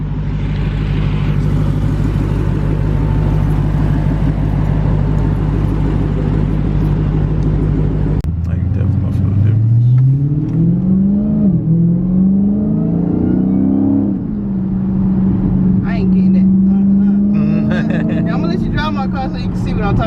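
A Dodge Challenger Hellcat idles with a deep, steady engine drone, then pulls away as the engine rises and falls through revs. People talk over it.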